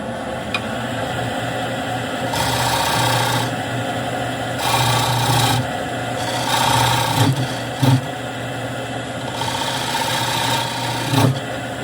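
Square end scraper cutting a recess into a returning wooden bowl on a spinning lathe, a steady rasping scrape in repeated passes over the constant motor hum, with brief clicks and knocks.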